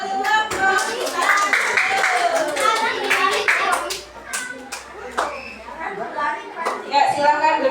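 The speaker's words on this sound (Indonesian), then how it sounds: "tepuk tangan untuk kelompok kita." Children in a classroom clap for their group during a lesson observation, a dense patter of hand claps mixed with lively kids' voices and chatter, fairly close and continuous with a brief lull midway.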